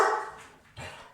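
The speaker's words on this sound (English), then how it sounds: "that's my dog barking." A dog barks twice nearby, a sharp first bark followed by a softer second one, with no talking over it.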